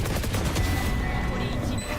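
Gunfire from the video game Valorant sounds as rapid, continuous shots in a dense fusillade during an esports match, loud and unbroken across the clip.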